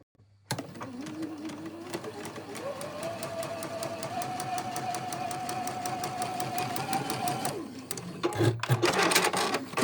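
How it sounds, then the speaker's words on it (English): A sewing machine stitching a quilt seam whirs steadily for several seconds, its pitch rising slightly, then stops with a few sharp clicks and snips of the thread cutter. "That noise you can hear, it's just my thread cutter."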